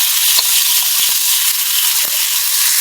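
Salted hilsa fish pieces fry in a little oil, giving a steady bright sizzle with a few soft clicks and pops scattered through it, close and fairly loud with no voices.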